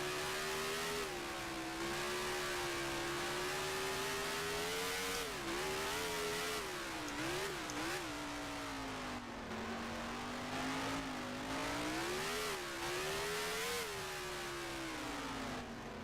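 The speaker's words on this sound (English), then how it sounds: "blipping the throttle on my downshifts" Race car engine in Grand Prix Legends at Monaco, revving hard and sustained, with repeated throttle blips rising and falling on downshifts, loud and close with no talk.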